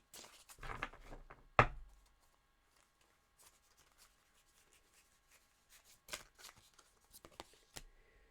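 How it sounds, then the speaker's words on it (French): Tarot cards being shuffled and drawn by hand: a few quick riffling bursts and one sharp slap early, then quiet soft rustles and flicks of cards, with more shuffling later. "Je vais prendre le carte conseil pour les balances en avril."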